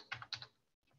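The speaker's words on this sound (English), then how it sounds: "I'm going to start typing." Computer keyboard keys typed into a search bar of a property-search mapping tool: a few quick, close, crisp clicks in a short burst, then a brief pause and one fainter keystroke, with no talking.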